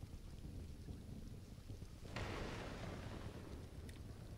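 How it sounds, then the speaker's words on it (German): Thunder crashes during a thunderstorm in the survival game Stranded: Alien Dawn, a sudden loud broadband rumble breaking over steady rain and wind noise and lingering for a couple of seconds. "Unglaublich, oder? Schon wieder Gewitter."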